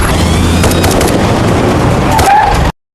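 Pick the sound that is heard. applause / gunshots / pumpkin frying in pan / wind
gunshots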